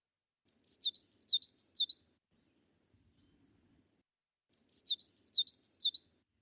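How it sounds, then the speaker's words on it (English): Common yellowthroat song, two bright, rapid phrases of repeated rolling witchity notes, each lasting about a second and a half and separated by a pause, clear and fairly close over a quiet background. "we will start with the common yellowthroat"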